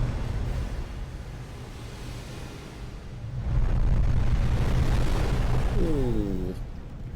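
A heavy, sustained bomb-explosion boom from a Skibidi Toilet animation rumbles through continuous low noise, swelling louder midway, with a short descending whine near the end.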